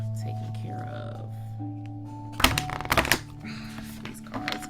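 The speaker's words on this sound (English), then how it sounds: "These cards are not easy to shuffle" Tarot cards being shuffled in a burst of crisp, rapid riffling and slapping, fairly close, set against a steady low hum of background music.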